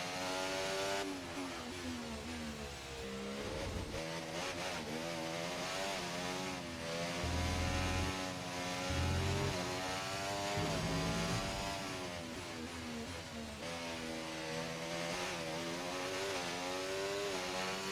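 A Formula 1 car's engine screams through a flying lap at Interlagos in the F1 24 video game, loud and continuous, rising and falling in pitch through gear changes and braking zones.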